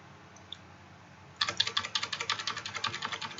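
Typing on a computer keyboard starts after a quiet stretch with a lone click, then a fast, close run of crisp keystrokes in a steady rhythm.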